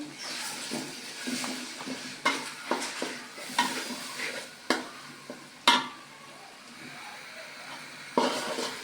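Ginger-garlic paste goes into browned onions frying in a pot for a two-kilogram beef curry. The steady sizzle is broken by repeated stirring scrapes and sharp clanks of a spoon against the pot.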